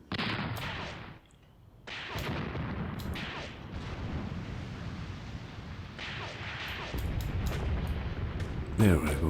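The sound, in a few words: tank gunfire in video game Graviteam Tactics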